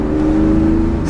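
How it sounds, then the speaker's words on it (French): Steady, throaty drone of a Porsche 911 Carrera 2.7 RS Touring's naturally aspirated flat-six without catalytic converter, held at a constant note close by, with a brief higher sound at the very end. "Et ce son de 911 tellement classique, ce flat 6 Atmo là, pas de catalyseur, pas de FAP"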